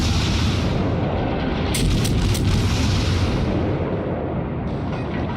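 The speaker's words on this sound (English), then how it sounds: "So put some rounds down range on this enemy Myogi." Naval guns fire in the World of Warships video game from an American Phoenix cruiser, with a few sharp shots over a constant loud roar of engine and sea.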